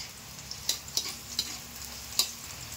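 Ginger frying until crisp in a pan for a Filipino sautéed snail dish with lemongrass, a faint steady sizzle broken by a few sharp stirring clicks, with no talking.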